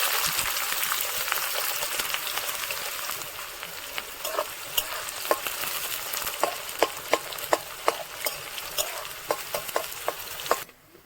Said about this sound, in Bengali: তেলটা গরম হয়ে গেছে, এবার এর মধ্যে পেঁয়াজ দিয়ে দিচ্ছি।